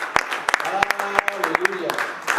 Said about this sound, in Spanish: un aplauso le recibimos en el nombre del Señor